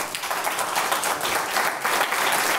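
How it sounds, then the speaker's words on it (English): Sustained applause from a forum audience, a dense, even wash of many hands clapping that holds steady from start to finish with no talking over it. "I think that deserves a big round of applause"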